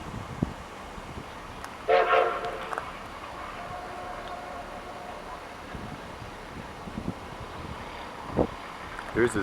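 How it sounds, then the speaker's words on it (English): A train leaving Silverton for Durango sounds a horn, heard as short, fairly distant blasts over steady wind and outdoor background noise. "Just barely caught the train going back to Durango."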